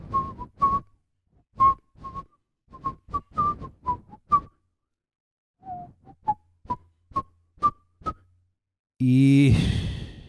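A man whistles a tune in short separate notes, loud and close, in two phrases with a pause between them, followed by a burst of breathy noise at the end.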